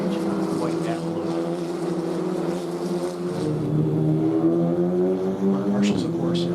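Formula Regional Americas open-wheel race cars at Road America circuit, a steady high-pitched engine drone with shifting harmonics as cars pass, continuous and moderately loud throughout.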